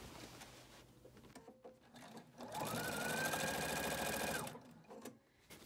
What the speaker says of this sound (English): now we can keep going and just stitch all the way around the edge